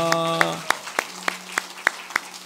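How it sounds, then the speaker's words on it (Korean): Congregation clapping in a church during a Sunday morning service, a burst of applause that settles into slow, evenly spaced rhythmic claps, with a sustained organ or keyboard tone underneath at first. "박수하겠습니다."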